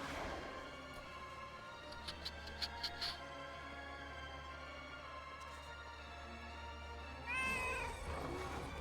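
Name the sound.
cat meowing in video game World of Warcraft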